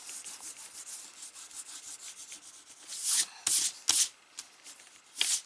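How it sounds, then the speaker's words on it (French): A pencil eraser rubbing out marks on paper during a folded-paper folio craft, close, dry scrubbing strokes with several louder bursts near the end. "Donc maintenant, on va pouvoir déjà gommer nos marques."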